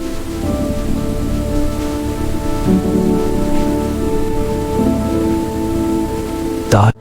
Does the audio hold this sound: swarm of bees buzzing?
no